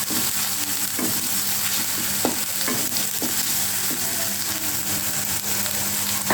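Onion and ginger garlic paste fry in a pan with a loud, steady sizzle, broken by repeated scraping strokes of a spatula stirring the mixture, close and continuous with no voices.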